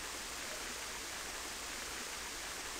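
Sewer water flows in Sonic Adventure, a dense, constant rushing wash with no breaks, loud and close throughout.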